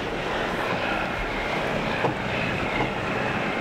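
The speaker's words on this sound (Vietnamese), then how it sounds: "Tiếp tục có chiếc tàu nhựa đang vô cửa nữa đó anh em." A Vietnamese composite fishing boat enters the harbor mouth to shelter from a storm, its engine a steady, continuous drone blended with wind and water noise at moderate distance, with no voices.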